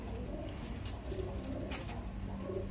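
A medium-sized pigeon coos softly in a few low, repeated calls, faint and somewhat distant over a steady background hum.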